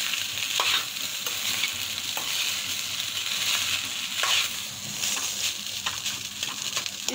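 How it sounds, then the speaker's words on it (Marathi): A spoon stirs rice, shop-bought single-grain cooked rice, around a hot pan while making veg pulao, with steady scraping strokes over a soft sizzle and a few louder scrapes, close and continuous with no talking. "सगळं भात टाकून घेऊ आणि चम्मचने घुमवून घेऊ पूर्ण"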